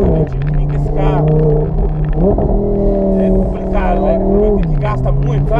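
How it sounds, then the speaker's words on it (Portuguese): An Audi R8 sports car engine hums steadily from inside the cabin while driving, its drone stepping up and down in pitch as the revs change, with low voices murmuring over it. "Porque é um Audi R8 esse aqui"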